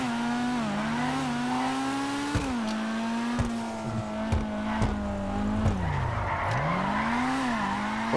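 Tuned Karin Futo RT3000 in GTA V drifting hard into a turn, engine droning with shifting pitch under sustained tire squeal, plus a few sharp knocks, close and loud, no talk.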